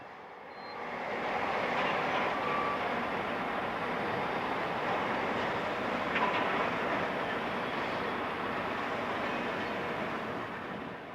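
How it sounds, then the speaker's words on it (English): Passenger train for Scunthorpe on the up main line past North Lincoln Junction rolls by as a steady broadband rumble that swells in, holds loud and level, then eases slightly. "The passenger train on the up main line is for Scunthorpe, having just passed through North Lincoln Junction."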